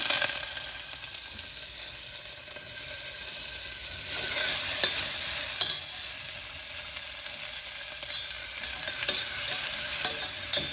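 Cumin seeds frying in hot oil for a dal, a continuous crackling sizzle with occasional sharp taps of stirring against the pan, with no talk over it.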